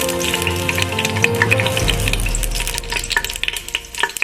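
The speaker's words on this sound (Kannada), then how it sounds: "ಆಯಿಲ್ ಫ್ರೈ ಮಾಡಲಿಕ್ಕೆ ನೋಡಿ ಸ್ನೇಹಿತರೆ ಗ್ರೀನ್ ಚಿಲ್ಲಿ ಹಾಕ್ತಾ ಇದ್ದೀನಿ" Green chillies hit hot oil in a pan for mutton masala, setting off a loud, dense sizzle with crackling pops that swells and steadies as they fry, with no talking.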